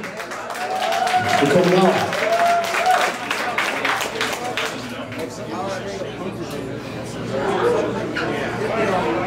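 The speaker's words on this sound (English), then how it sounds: "Give you guys a round of applause." An audience at a live metal show in Vino's Brewpub, Little Rock, claps and cheers amid chatter and laughter, with a voice speaking over the noise near the start.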